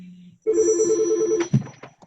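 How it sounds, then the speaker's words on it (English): A telephone rings with a loud, rapidly trilling electronic bell in one sustained burst, followed by a short clunk. "Phone's going crazy."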